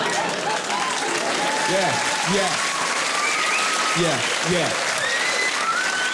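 Comedy club audience applauding during a stand-up set, a steady roar of clapping and cheering throughout, with a voice speaking briefly over it.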